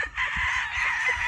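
A sweater white-leg cross gamecock rooster gives a single short, bright crow at close range, held steady for about a second over a faint low rumble.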